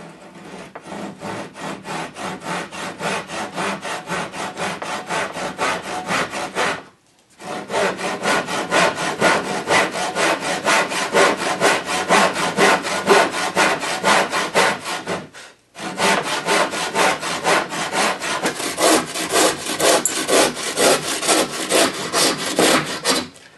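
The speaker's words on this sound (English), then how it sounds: "I'll just extend those and cut those out with a handsaw." A handsaw cuts wood veneer for furniture with close, rhythmic back-and-forth strokes, in three long runs separated by two brief pauses, and no talking.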